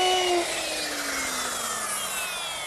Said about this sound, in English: now we'll just round off the edges using the router